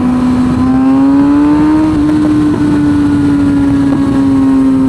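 A Kawasaki ZX6R 636 sport bike fitted with a Hot Bodies exhaust runs nearby with a loud, steady engine note that rises slightly and holds, with no voices over it.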